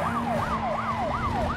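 Wailing police siren sweeping up and down in fast repeated cycles during a chase in the PS2 game Need for Speed Most Wanted, loud and close over a steady low engine drone.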